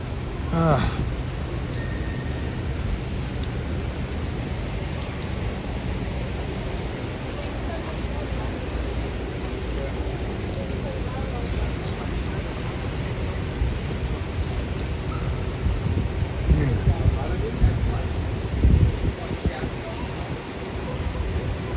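Heavy rain pours onto a New York City street in summer, a steady, dense hiss of drops on pavement that swells slightly toward the end, with faint voices in the background.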